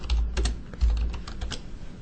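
Company details being typed on a computer keyboard: a quick, uneven run of close, crisp key clicks with short pauses, loud and clear with no voices.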